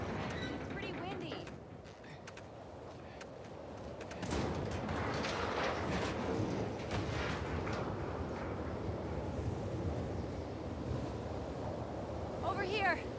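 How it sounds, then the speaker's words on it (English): Gusty wind in The Last of Us Part II blows steadily at a high, exposed spot, a broad rushing roar that swells louder partway through and persists under occasional talk. "It's pretty windy."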